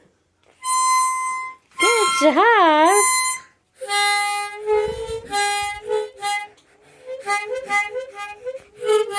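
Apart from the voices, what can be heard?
child playing harmonica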